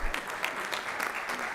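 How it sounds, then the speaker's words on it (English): Audience at a county school board meeting applauding high school parents, a dense, even round of clapping from a room of people with no talk over it. "just stand so we can give you a round of applause"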